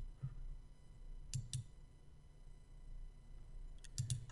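Mouse clicks while working in ProRealTime 10.3 trading software, a few faint, sharp clicks in quick pairs over a quiet background.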